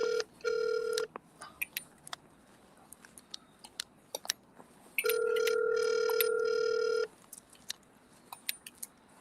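A long-distance telephone ringback tone sounds twice on an outgoing call, each ring a long electronic buzz, with soft clicks and taps scattered between them.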